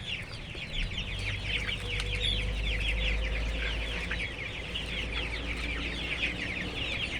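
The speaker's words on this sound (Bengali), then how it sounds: "আমার খামারের রাক্ষসী মুরগি দেখেন আপনারা।" A flock of Sonali chickens on a farm clucks and chirps continuously, many overlapping high calls over a low steady hum, close and fairly loud throughout.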